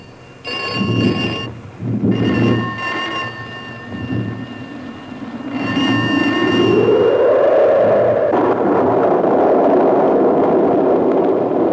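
Heavy rain and thunder in an old Tamil film scene: several loud, rumbling thunder crashes in the first half, then a steady roar of downpour rising and holding to the end, mixed with a film score.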